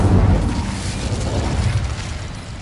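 The Incendio fire spell goes off in Hogwarts Legacy with a loud, deep whooshing burst that booms at the start and then roars and fades over a couple of seconds.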